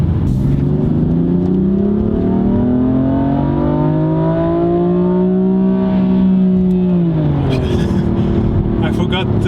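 A 2018 BMW M4 Competition F82 revs hard up toward 7,500 RPM, its engine note climbing steadily and smoothly for several seconds before dropping off, loud and close inside the cabin with a voice talking over it.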